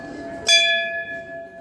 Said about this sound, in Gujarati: ઘંટી